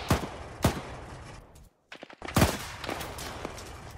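Bursts of gunfire from an Arma 3 firefight, several sharp loud shots spaced across a few seconds with a brief gap of silence in between, followed by a closer cluster of rapid reports.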